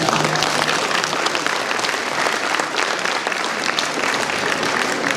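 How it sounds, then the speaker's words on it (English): An audience at an annual awards and anniversaries soiree applauds, thick and steady clapping from many hands at full volume throughout. "Round of applause for that."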